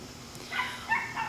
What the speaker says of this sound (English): Apparently somebody's dogs are barking